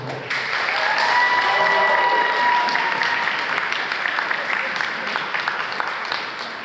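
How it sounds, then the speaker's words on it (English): Audience at a Sheldon High School band goodbye concert applauds the school staff, loud sustained clapping with some cheering and voices mixed in, gradually thinning toward the end. "Huge round of applause for the staff here at Sheldon."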